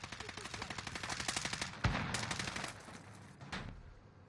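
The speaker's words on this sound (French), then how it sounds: "Une balle de snipe, tant que tu veux." A sniper rifle shot in a video game cracks out as one sharp, heavy report after a run of rapid, quieter automatic fire. A few fainter shots echo afterward.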